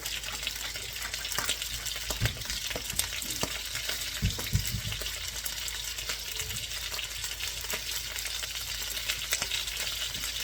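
Salmon fillet seasoned with salt and black pepper sears skin-side down in a non-stick skillet, giving a steady, close sizzle with faint crackles and occasional light clatter throughout.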